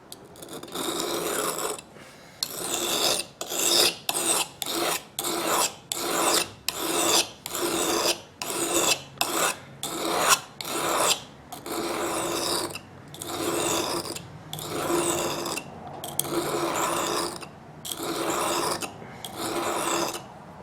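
A knife is drawn across the coarse side of a two-sided sharpening stone from a Fox Ridge Arms custom knife-making kit, making about seventeen rhythmic, gritty rasping strokes with short pauses between them, close and alone.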